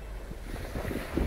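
Sea waves wash against the shore at a marine dredging site where a long-boom Doosan 530LC excavator works, a steady low rumble of surf mixed with wind buffeting the microphone, with no voices.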